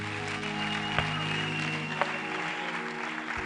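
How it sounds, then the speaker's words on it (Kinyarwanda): A church congregation applauds after a testimony, a steady wash of many hands clapping that stays fairly even throughout, with a few sharper claps standing out. "nimwongere ijambo ry'Imana amashyi menshi"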